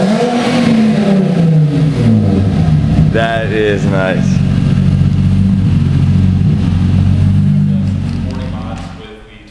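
A turbocharged 2003 Infiniti G35 Coupe with an OEM exhaust manifold and test pipes revs loudly and close, its engine note climbing and holding a strong drone before easing off, while someone briefly speaks over it.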